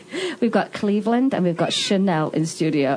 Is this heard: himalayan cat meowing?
yes